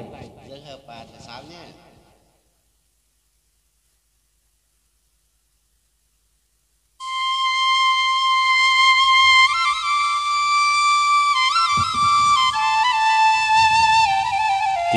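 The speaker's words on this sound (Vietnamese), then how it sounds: "Tiếng sáo hay quá trời." A flute plays a Vietnamese folk song, entering after a brief stretch of voice and a few seconds of silence with loud, sustained tones and sliding bends that carry on steadily to the end.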